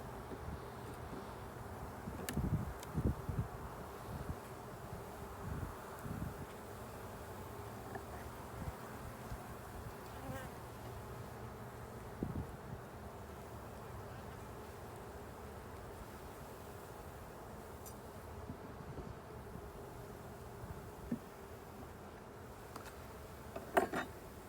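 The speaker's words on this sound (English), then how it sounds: "A lot of buzzing." Honey bees from an opened hive during a spring inspection, a steady dense buzzing drone throughout with occasional clicks and knocks of frames and tools nearby.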